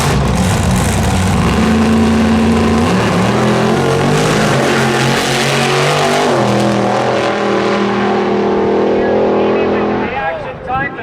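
An Extreme Legal Chevy Vega drag race car making over 1,200 horsepower roars loudly and continuously at a Kelowna drag strip, fading near the end, with a voice talking over the engine noise.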